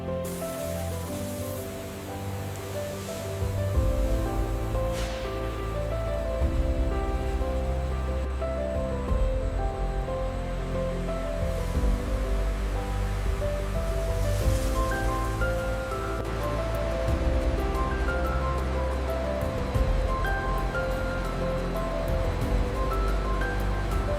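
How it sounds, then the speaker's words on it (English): High-pressure nozzles spray a continuous curtain of clean water through the fiber mat on a paper pulp washing press in a factory that turns old newspapers into tissue paper, making a steady, even rushing hiss under a constant tonal hum. "high-pressure nozzles spray a continuous curtain of clean water through the fiber mat"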